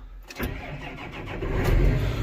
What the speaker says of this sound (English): while we've got this tractor running